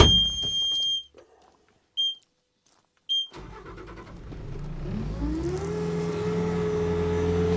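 A 2021 Bobcat T76 R-Series rubber track skid steer loader with high flow: three short electronic beeps, then the diesel engine cranks and catches, settling into a steady, rising idle close by.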